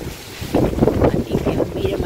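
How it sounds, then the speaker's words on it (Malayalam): Strong wind blowing during a heavy storm in Chennai, a loud rough gusting roar buffeting close against the microphone, rising after a brief quieter start. "കാറ്റാണ് വീശിക്കൊണ്ടിരിക്കുന്നത്."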